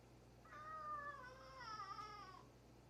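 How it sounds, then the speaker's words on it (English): A cat gives one long, drawn-out meow that rises and wavers, quiet but clear in a still indoor room. "Kitty, meow."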